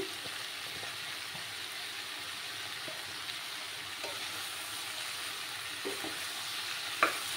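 Ground cumin and coriander get stirred into a Bengali fish curry in a pan, a soft steady sizzle of frying with faint scraping strokes and a small clink near the end, no voices.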